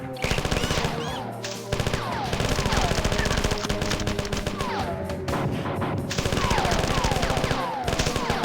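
Assault rifle fire in the 1994 shooter game Marathon, long rapid automatic bursts, loud and close, over a steady game soundtrack with brief pauses between volleys.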